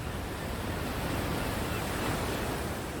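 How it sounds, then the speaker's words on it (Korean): Ocean waves roll in and draw back in a steady, broad wash of surf noise that stays even and fairly loud throughout, with no voices or other distinct sounds. "파도가 밀려왔다가 빠져나가는 수면의 흐름"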